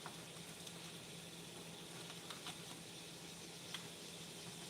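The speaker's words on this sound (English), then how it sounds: "I got some water boiling over here. I like to boil my sausages first." A pot of water boiling on a stove before sausages go in, a steady bubbling hiss with faint pops, heard close and continuous with no talk.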